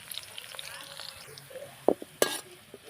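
Onion, green chilli and curry leaves fry in a pan, a soft sizzle punctuated by a few sharp scrapes and clinks of a spatula being turned, heard up close without speech.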